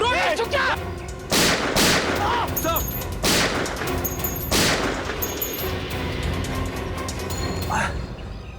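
Gunfire in a crime-drama scene, several loud, sharp shots in irregular bursts mixed with impacts and crashes, set against tense background music.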